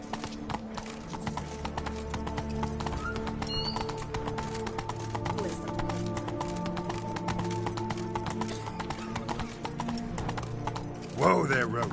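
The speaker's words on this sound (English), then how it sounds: "Whoa there, Roach" Horse hooves clip-clop steadily at a gallop in The Witcher 3, Blood and Wine expansion set in Toussaint, with game music and ambience underneath and a rider's call near the end.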